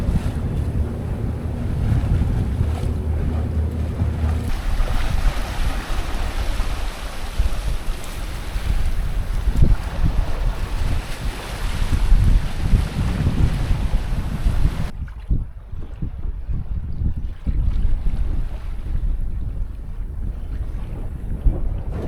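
A sailboat leaving Kos in the Dodecanese heads out through wind and waves. Steady wind roar buffets the microphone over rushing water and hull splash throughout, with no speech.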